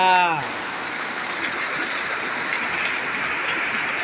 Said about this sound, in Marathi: किती पाऊस बघा